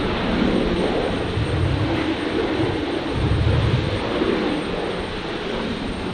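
Virgin 347, a Boeing 737 arriving from Melbourne, touches down at Brisbane Airport as a steady, moderately distant jet roar with low rumbling surges, continuous throughout without speech.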